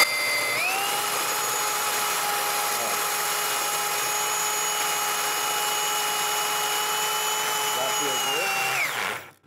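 A power drill steadily boring a hole through a wall for a TCL T-PRO 2.0 split air conditioner install, a loud continuous whine that spins up at the start and runs evenly for about nine seconds before winding down.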